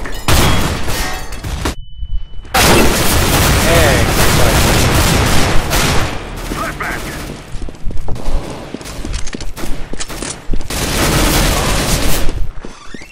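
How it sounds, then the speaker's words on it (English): Flashbang grenade and gunfire in Counter-Strike: GO, a dense, loud stretch of shots and bursts with a brief high ringing tone early on, under intermittent player talk. "I'm throwing a flashbang."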